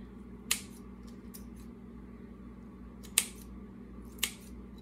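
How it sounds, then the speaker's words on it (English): Kitchen shears snipping through raw bacon strips: three crisp, isolated cuts spaced a few seconds apart against a quiet kitchen background, close and fairly soft, with no talk. "So I got my kitchen shears here, and I'm just gonna"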